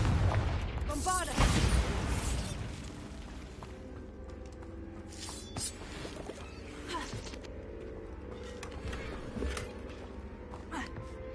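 Bombarda and Confringo explosion spells go off in Hogwarts Legacy, a heavy boom up front followed by scattered smaller blasts and crackles during a fight, with a voice shouting spell names in between.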